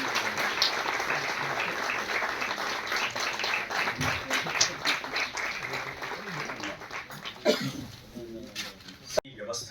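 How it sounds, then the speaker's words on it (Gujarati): Audience clapping at the opening of the 31st Annual Session of the Gujarat Sociology Council, steady rapid applause that thins toward the end, followed by a few scattered sounds and room noise. "તાળીઓ થોડી હજી ઓછી"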